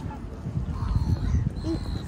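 A pet goose gives a few short honks at a lake in the Lake District, fairly close, amid background murmur and a little talk.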